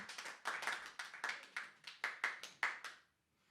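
A small audience claps after a song at a songwriter showcase, about a dozen distinct sharp clap bursts in an uneven rhythm, fairly close, then stopping into silence.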